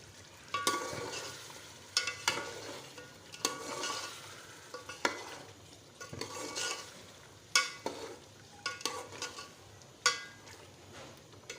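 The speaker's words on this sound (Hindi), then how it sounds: "आलू को हम 5 मिनट के लिए इसमें भून लेंगे।" Potatoes stirred and fried in masala in a pot for an aloo gosht korma-style beef curry, with a steady soft sizzle broken by repeated sharp scraping and clinking strokes of a spoon or spatula against the pot, close and without talk.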